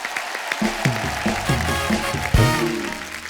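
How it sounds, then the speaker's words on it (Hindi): Studio audience on a Holi special comedy show breaks into loud applause for actress Kriti Sanon, steady clapping that runs the whole stretch beneath a host talking over it. "कृति के लिए जोरदार तालियां हो जाएं।"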